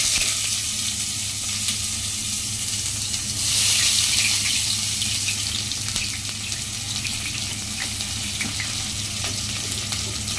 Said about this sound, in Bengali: গরম তেল দেওয়ার পর আমরা পেঁয়াজ দিব